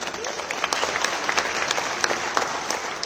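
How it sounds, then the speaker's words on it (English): A crowd at the 2023 Capital Markets Awards ceremony in Zimbabwe applauds steadily for award nominees, with dense, continuous clapping and scattered sharper claps throughout. "Let's give them a big hand."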